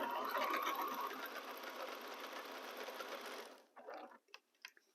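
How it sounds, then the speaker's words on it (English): A sewing machine stitches a nine patch quilt block, its fast needle chatter running loud and steady, then stopping abruptly, followed by a few soft handling clicks and knocks. "we are done with the sewing part for this block"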